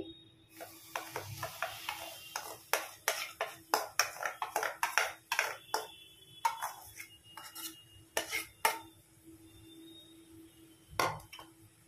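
Palm pulp is stirred in a pan over a medium flame, giving quiet irregular scrapes and taps of a utensil against the pan, close and fairly faint.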